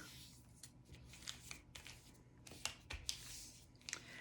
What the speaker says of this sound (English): you're only going to fold the one side right to that center line